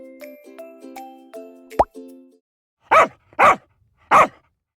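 After a short musical jingle, a dog barks three times, loud and close, with even gaps between the barks.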